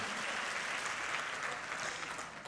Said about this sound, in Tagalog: Palakpak naman na busog.